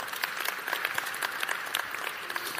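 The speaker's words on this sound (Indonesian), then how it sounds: "Beri tepuk tangan lagi." A church congregation applauds during a sermon, a steady dense patter of many hands clapping close by that carries on without pause and without speech.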